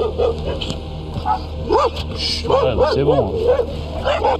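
A dog barks and yips repeatedly near a car on a roadside in the United States, a series of sharp, close barks mixed with people talking in French over a steady engine hum.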